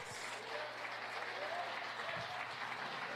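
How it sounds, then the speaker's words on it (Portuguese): Sustained congregation applause fills a church service, a steady broadband wash of many hands clapping at moderate level throughout, with a faint low hum underneath. "levante-se e dê um aplauso, glorificando ao nome do Senhor Jesus."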